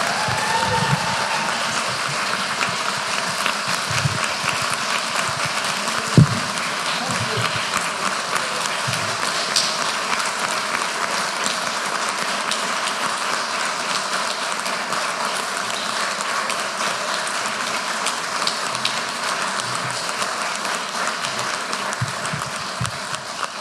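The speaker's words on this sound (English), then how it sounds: "one more round of applause" Audience applause at an evening lecture in a meeting house, steady broadband clapping from a seated crowd sustained for over twenty seconds at an even level, with no voices standing out.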